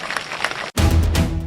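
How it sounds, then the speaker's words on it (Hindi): Crowd applause at an Indian election campaign rally, a muffled wash of clapping that cuts out briefly, then bursts back louder and fuller. "जरा इनके लिए भी ताली बजाओ"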